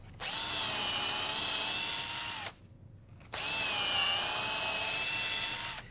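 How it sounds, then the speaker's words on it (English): A power drill whines at high speed drilling into wood in two long runs separated by a short pause, loud and close. "So as you drill in, only drill up to the edge of the tape."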